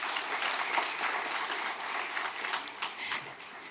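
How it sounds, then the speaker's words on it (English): Sustained applause from a summit audience honoring a group of panelists at a workforce development event, a steady dense wash of many hands clapping at moderate distance with no voices over it. "another round of applause for our wonderful panelists"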